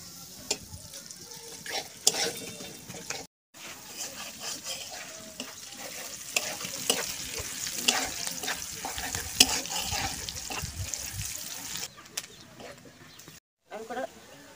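Onion fries in oil in a pan over a village cooking fire, a steady close sizzle with scraping and stirring running throughout, a few brief dropouts, and a voice faintly present at times.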